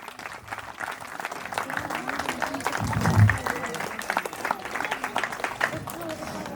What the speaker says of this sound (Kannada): ಜೋರಾದ ಚಪ್ಪಾಳೆಯೊಂದಿಗೆ ಮತ್ತೊಮ್ಮೆ